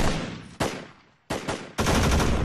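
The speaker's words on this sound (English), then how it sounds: "The support by fire with machine gun continues to lay down suppressive fire on the enemy position." Machine gun suppressive fire in a rural squad drill: loud, close, sustained bursts of automatic fire broken by brief pauses, with each burst's echo fading between them.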